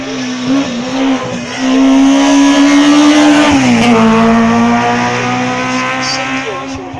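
A hill-climb race car at the Quillan course runs close by, its engine note loud and sustained with a pitch that drops and then climbs again as it shifts, under a faint announcer.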